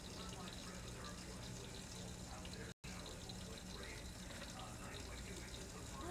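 A pet water fountain flows with a steady trickling, bubbling stream, close and constant apart from a brief dropout midway, while a person talks over it.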